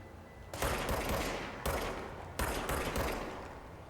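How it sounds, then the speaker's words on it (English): Gunfire from an enemy in the video game Control: three sharp, loud broadband volleys, each decaying over about a second, fired in quick succession. "Was he shooting back at me? Yes, sure was."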